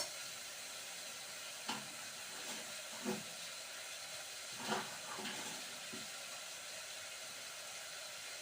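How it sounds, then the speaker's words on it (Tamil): Capsicum sautés with rock salt in a pan, a soft steady sizzle and hiss with a few faint stirring scrapes, quiet and close, with no talking. "இதை போட்டு நல்லா வதக்கிக்கலாம்."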